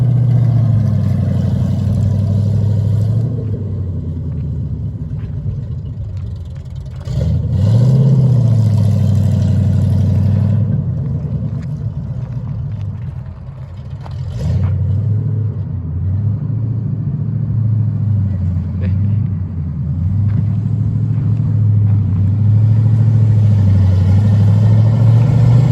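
An off-road vehicle engine drives across open desert, a steady low rumble that swells and eases with throttle changes, fairly close and continuous with no one talking.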